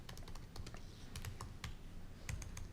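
Typing on a computer keyboard during a live coding session at a Spring I/O 2019 conference talk, quick irregular keystrokes clicking close and faint, with no voice.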